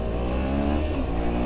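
A motorcycle engine rumbles and revs steadily at mid pitch as another rider pulls in, a close and continuous drone with no pauses.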